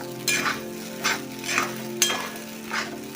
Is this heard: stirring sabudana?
yes